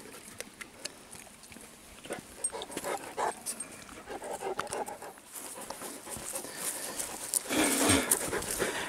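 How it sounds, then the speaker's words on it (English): A seven-month-old Great Dane puppy pants close by, quick rough breaths going on steadily and growing louder near the end, with no one speaking. "Lurch, the new family Great Dane puppy, is just hit 7 months old."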